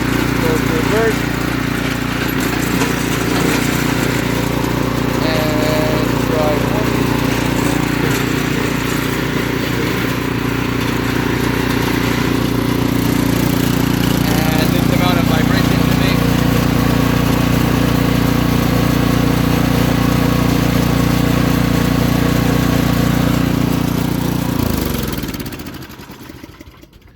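Snowblower fitted with a swapped LCT engine, replacing a Tecumseh, running at a steady loud drone for most of the time before the engine cuts off and fades out near the end.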